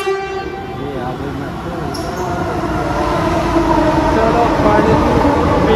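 A metro train at a station gives a steady rumble with rolling wheel noise and a brief high squeal, building slightly louder over the seconds, with some background talk.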